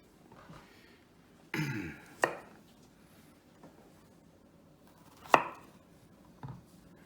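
A knife chops zucchini for stuffed baked vegetables, giving a few sharp, separate cuts on a board against a quiet background: a cluster near the start, a clear single strike in the middle and a fainter one toward the end.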